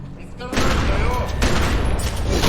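Burst of gunfire in The Secret World video game, a loud sustained fusillade that starts abruptly after a quiet moment and rolls on with dense overlapping shots and booms, with voices talking underneath.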